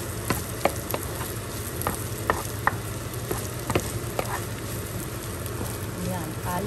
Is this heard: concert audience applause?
no